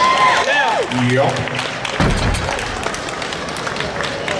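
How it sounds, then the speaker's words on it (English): An audience at the 2014 Matti Tikka Challenge IPF powerlifting competition claps after a women's deadlift attempt: steady, moderately loud applause under an announcer's voice, continuing after a brief thud. "Round of applause, good attempt."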